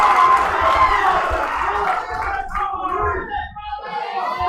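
A powerlifting crowd at a national championship shouts and cheers loudly for a lifter, a dense roar of voices that fades a little before rising again.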